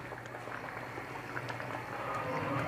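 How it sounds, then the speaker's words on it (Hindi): Pot of rice bubbling at a steady boil while cooking for a potato and green chickpea pulao, a continuous close, even simmering hiss with soft bubble pops and no talk. "जैसा कि आप देख रहे हैं कि हमारे चावल उबल रहे हैं"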